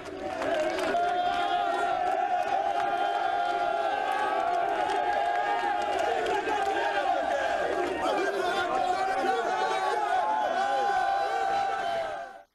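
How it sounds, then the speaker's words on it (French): A crowd of dockers at the autonomous port of Conakry greeting the head of state, a loud, sustained mass of cheering, chanting and shouting voices that stays full for about twelve seconds before cutting off. "le chef de l'État a eu droit à un bain de foule des dockers venus lui exprimer tout leur soutien"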